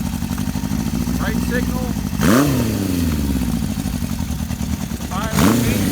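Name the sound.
1973 Honda CB750 motorcycle engine running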